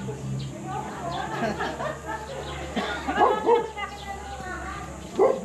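A dog barks and yips several times nearby while people talk over it, with a low hum in the background.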